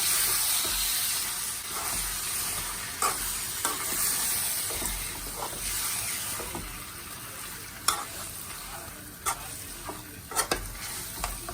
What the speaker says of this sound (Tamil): கிளறி விடணும்.